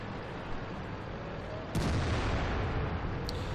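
A heavy tank cannon shot in World of Tanks on the Westfield map, a sudden loud boom that jumps out of steady engine rumble and battle noise, with a faint secondary crack near the end.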